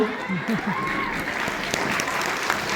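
An audience at a school day function breaks into sustained applause, a dense, fairly close wash of clapping hands that continues evenly to the end, with a voice briefly audible near the start.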